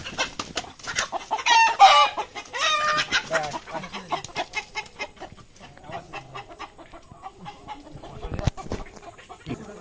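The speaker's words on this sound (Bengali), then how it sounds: "তো আমাদের মুরগি ধরা প্রতিযোগিতা চলছে।" Chickens cluck and squawk in a lively, continuous flurry during a chicken-catching contest, with a rooster-like call standing out early and scattered bird noises filling the scene.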